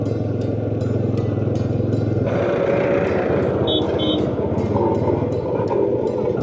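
A motorcycle rides along a road in cool, breezy weather, its engine a loud, steady rumble close by, with a brief higher beeping partway through.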